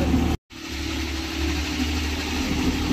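A boat's engine idles at a fishing tournament, a steady mid-pitched motor drone with a low rumble that runs continuously and fairly close after a brief dropout near the start, with no voices.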